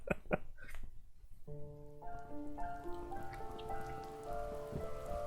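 Rain falling in the game The First Tree, a soft steady patter of drops on surfaces, faint and even, with a gentle sustained musical score rising beneath it and no speech.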